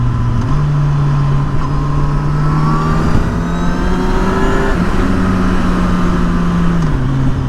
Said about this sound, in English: That was full throttle in third gear.